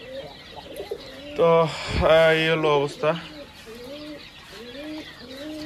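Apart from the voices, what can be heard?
quail birds calling on a farm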